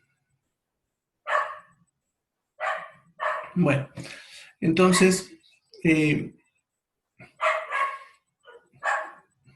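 A small dog yips and barks in a few sharp, short bursts mixed in with a man lecturing in Spanish, the barks moderately close and about as loud as his voice.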